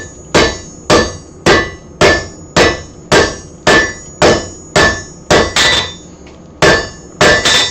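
A hand hammer pounds forged metal flat on an anvil, striking about fourteen loud, sharp blows at a steady, even rhythm with no talking.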